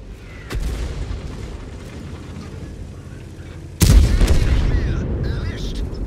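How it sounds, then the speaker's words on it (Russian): A friendly self-propelled artillery gun firing in a tank video game: a sharp boom early on, then a much heavier, louder blast that rumbles on for a couple of seconds. "Это бабаха наша по мне стреляет."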